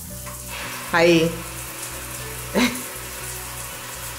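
Water sprays from a dirty home shower head that is not letting all the water through, a steady broadband hiss with two brief louder splashes, and a person briefly speaks.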